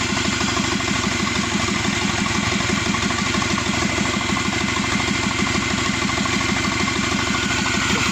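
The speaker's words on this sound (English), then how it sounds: "An engine running, that's more important." A turbocharged Subaru Forester SG9 with an EJ255 engine idles steadily, a continuous close, loud throbbing rumble with even low pulses and no talk over it.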